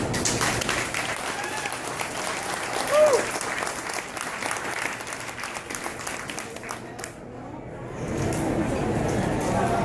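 Audience applause at a county fair senior showmanship class, steady crowd clapping throughout with a faint voice calling out briefly, the clapping dipping a little then building louder toward the end.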